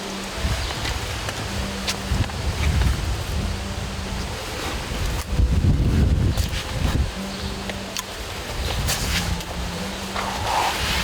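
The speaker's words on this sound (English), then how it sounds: "Perfect wind." A northwest wind blows across an open field, a steady, close rush of gusting air buffeting the microphone with swelling surges over about eleven seconds.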